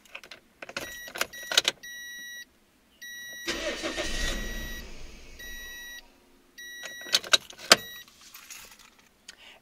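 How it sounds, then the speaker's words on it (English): A Toyota Echo with a check engine light and an idle fault: keys jangle and dashboard chimes beep, then the cold engine cranks and catches into a brief idle, followed by more key rattling and beeps. "I will start the car and you can listen."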